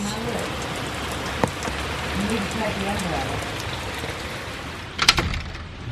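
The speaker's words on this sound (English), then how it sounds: "It is raining cats and dogs." Steady, dense heavy rain patters on surfaces of a mobile home throughout, with a couple of brief knocks near the end.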